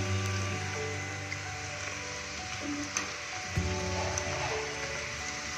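Maggi noodle balls deep-fry in hot oil, giving a soft, continuous sizzle with scattered small pops and crackles, fairly quiet and close, with no talking.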